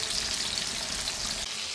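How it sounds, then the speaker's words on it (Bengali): Hilsa fish fries in a pan over a wood-fired flame, giving a steady close, bright hissing sizzle that continues without pause. "মাছটা ভাজা হচ্ছে এই যে"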